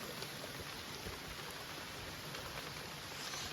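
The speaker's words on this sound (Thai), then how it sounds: "ตอนนี้นี่ฝนกำลังเทลงมานะ" Heavy rain pours down around an outdoor cooking spot, a faint, even wash of noise with no voices.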